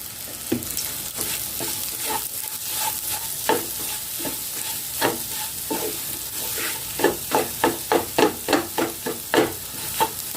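Moong dal halwa cooked with ghee being stirred and roasted in a pan, a steady soft sizzle under repeated scraping strokes that quicken into a regular rhythm toward the end, close and moderately loud.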